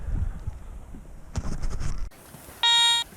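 A loud, steady electronic beep sounds briefly after some rustling and footsteps, clear and close.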